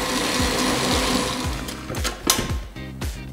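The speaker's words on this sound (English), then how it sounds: "And now we're gonna mix it in for about 2 minutes." An electric mixer whips a meringue mixture in a bowl, a steady close motor whir with repeated rhythmic clunks as the beaters knock around, heard alone without talk.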